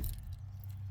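A bunch of keys jingles briefly as they are grabbed, a short faint metallic rattle with a low hum underneath.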